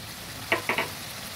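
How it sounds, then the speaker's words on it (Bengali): Cumin and coriander powder frying with cashews in a pan for mutton curry, heard as a few short sizzling, scraping stirs in quick succession over a quiet background. "ভালো করে মশলাগুলো এবার ভেজে নিচ্ছি"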